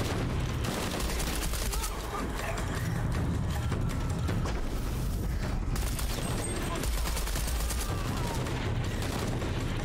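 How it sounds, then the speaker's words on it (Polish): Gunfire from the video game Shadow of the Tomb Raider rattles in rapid volleys, with dense bursts of shots under constant game noise over about ten seconds. "O, strzały."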